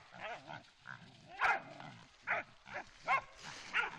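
On a farm, a dog yips and barks in short separate bursts while a pig squeals and grunts alongside it, about eight quick calls over four seconds, fairly faint and close.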